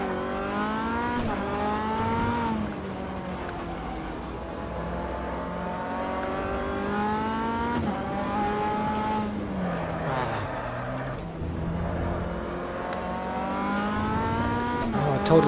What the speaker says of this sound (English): Let's start the engine again.